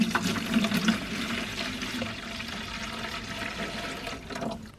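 Yeast water for a homemade strawberry plant fertilizer being poured into a bucket, a continuous splashing gush of liquid lasting several seconds at close range, with no talking.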